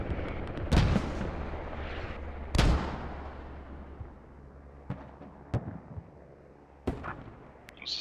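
Mortar fire in the Squad video game, with two heavy booming impacts early on and several sharper distant blasts and cracks following at irregular intervals over a low battlefield rumble.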